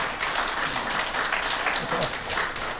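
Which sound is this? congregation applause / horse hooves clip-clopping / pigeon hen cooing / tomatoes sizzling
congregation applause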